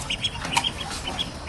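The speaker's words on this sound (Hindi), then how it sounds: "जो मुर्गियाँ हैं इनको भी निकाल दिया है, हीरा ब्रीड" Heera breed chickens let out of their pen to feed, giving a few short, fairly close clucks and squawks over a steady outdoor background.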